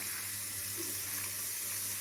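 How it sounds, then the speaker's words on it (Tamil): Hot water pours steadily onto tamarind and dried chillies while an Andhra-style spicy chutney is prepared, a continuous hissing splash at moderate volume with no talk. "இதில் கொஞ்சம் நான் சுடுதண்ணி ஊற்றுறேன்"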